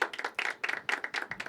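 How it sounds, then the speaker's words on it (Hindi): Small audience at a poetry open mic clapping in several short bursts, a few hands close by with uneven rhythm, fairly loud and alone with no talk. "एक बार खुद के लिए तालियां बजा दो यार"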